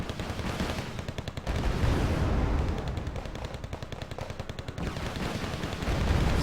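Video game battle with Grizzly units firing on a command unit while Canadian Airborne troops hold a position: dense, continuous rapid gunfire and machine-gun bursts, loud and sustained throughout with no speech.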